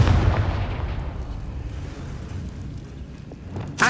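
A Confringo fire-blast spell in Hogwarts Legacy goes off with a booming burst that fades into a rushing, windy decay, followed by a sharp crack at the very end.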